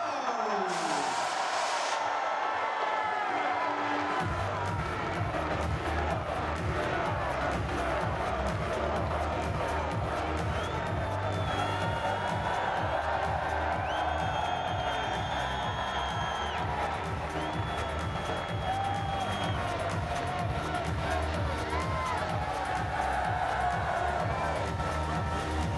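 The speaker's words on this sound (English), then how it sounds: "Give them a huge round of applause, a massive cheer." Fans at the Manchester City Premier League title parade cheer and applaud, a dense continuous crowd roar sustained throughout with scattered whoops rising above it, likely with talk mixed underneath.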